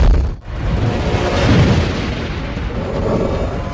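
A loud, sustained explosion sound effect representing huge eruptions in space: a deep, rolling rumble with a short dip near the start, then a steady roar to the end, with no voices.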